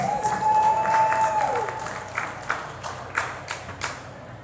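Audience applause for a musician at a podcast gig, a dense burst of clapping that thins into scattered individual claps, with a faint tonal whine early on and little talk.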